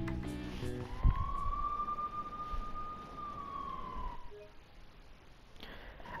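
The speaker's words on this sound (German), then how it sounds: "All diese Polizeiautos, ist irgendwas passiert?" Police car sirens in the video game Persona 5, a sustained wailing tone that rises and holds for several seconds before fading, loud over game background music.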